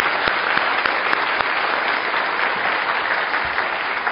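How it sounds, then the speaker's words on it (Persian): A television studio audience applauds young guests on a Persian comedy talk show, producing dense, continuous clapping at a steady level for several seconds with no voices over it. "خب رفقای کوچکترمون رو تشویق کنیم."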